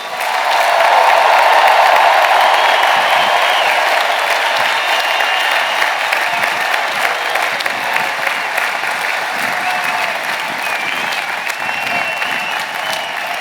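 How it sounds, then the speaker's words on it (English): A large crowd at the University of Illinois Urbana-Champaign 2025 commencement applauds loudly and steadily, sustained clapping that swells at first and then holds for over ten seconds with no talking. "give our 2025 graduates one last big round of applause"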